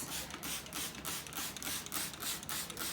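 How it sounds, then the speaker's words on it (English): Quick hissing bursts of starch from a trigger bottle onto fabric repeat in a steady rhythm, about three a second, close by, each with a short mechanical click from the trigger. "I'm giving it a really good spray"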